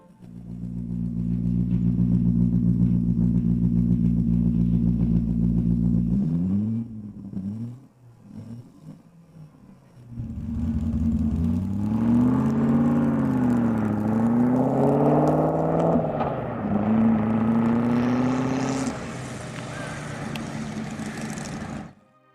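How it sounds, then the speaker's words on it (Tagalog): A Franz Flyer V8, the world's smallest motorcycle V8 at about 72 cc, idles with a steady close hum, then cuts out briefly before revving repeatedly in rising and falling pulls. "Franz Flyer V8 at ipinagmamalaki nito ang pinakamaliit na V8 sa mundo ng motorsiklo"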